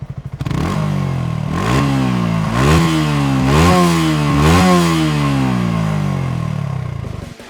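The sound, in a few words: sport motorcycle exhaust revving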